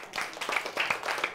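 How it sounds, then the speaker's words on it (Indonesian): A brief round of hand clapping from a class of young primary school pupils, fairly soft and continuous, with individual claps blending into a short patter. "Tepuk tangan."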